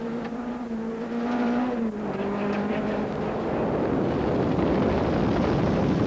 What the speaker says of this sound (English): the twitchy front-wheel drive Conquest he and Wiley so successfully drove